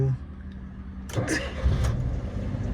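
Car engine started with the key: a brief cranking burst that catches into a running idle, heard close under voices talking.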